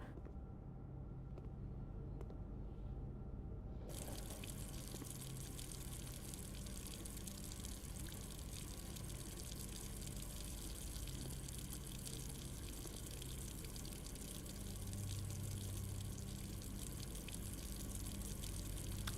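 Tap water runs steadily from a faucet in the video game Blue Prince, a continuous rushing hiss with a low rumble that holds at an even level for the whole stretch, with no talking over it.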